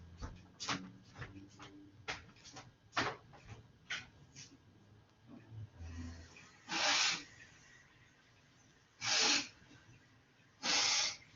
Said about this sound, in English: Excuse me, I better blow my nose.